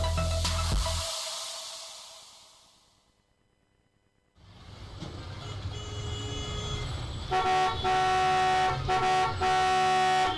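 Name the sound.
car horn honking repeatedly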